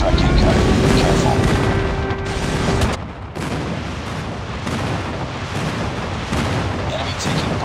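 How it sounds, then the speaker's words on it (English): Airstrike explosions in Call of Duty Mobile: dense, loud rumbling booms and blasts rolling continuously, with a steady tone early on, then a heavy, sustained barrage of impacts. "Enemy airstrike incoming."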